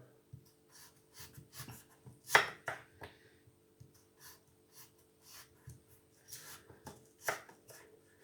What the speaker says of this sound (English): you're going to slice pieces about 1/2 centimetre thick through the potato.